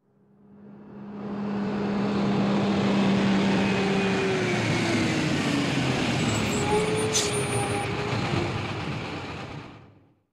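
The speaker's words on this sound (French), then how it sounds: "tous les habitants regardent un camion noir. Il s'arrête devant la mairie." A black truck approaches, its heavy engine rumble swelling in over a couple of seconds, holding steady with a hiss like an air brake near the midpoint, then fading out as it comes to a stop in front of a town hall.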